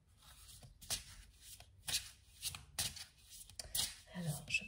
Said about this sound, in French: je prends rapidement une deuxième carte